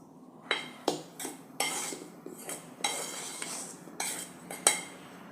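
A spoon stirs coriander vadi batter mixed with rice flour in a bowl, giving a series of sharp clinks and scrapes at irregular intervals, close and fairly loud, with no talking.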